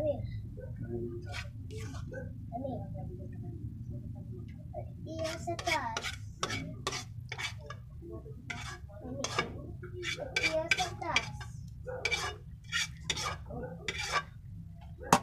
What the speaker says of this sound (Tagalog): ihalo na natin yung sauce natin